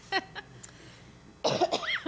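Short coughs ring out in a school committee meeting room: one sharp cough near the start, then a faint one, followed by a louder cluster of coughing and throat noise mixed with muffled voices.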